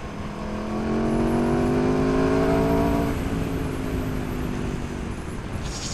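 A 2019 Aprilia RSV4 Factory motorcycle accelerating hard, its engine note climbing in pitch through a gear, dropping briefly at a shift and rising again, heard close with wind noise and no talk.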